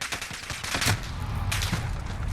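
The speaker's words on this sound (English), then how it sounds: "you can even put this in full auto if you want to just tap fire it and get those shots off quicker" MK 20 SSR rifle in Call of Duty Modern Warfare fires a quick burst of sharp, close gunshots, several cracks in rapid succession with brief gaps, standing alone without voices.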